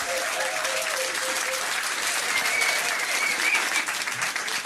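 A room of people at a charity trivia quiz in a school applauds the winners, dense continuous clapping at an even level for several seconds, with a faint tone or whistle briefly rising above it.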